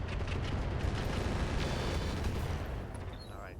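Hellfire missiles fire in the mech game RogueTech as a dense, sustained roar of rocket launches and blasts. It stays loud and steady throughout, then eases slightly near the end.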